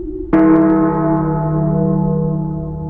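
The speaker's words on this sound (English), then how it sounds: "The bells were ringing wildly. It was midnight. The midnight chimes." A large church bell strikes once at midnight with a sharp metallic clang, then rings on in a long, shimmering, slowly fading hum, close and alone.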